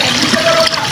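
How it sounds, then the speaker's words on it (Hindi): Spring water rushing steadily at Taghan waterfall, a close, continuous splashing flow, heard alone and brief. "ये पानी देखिए, ये चश्मे का पानी है"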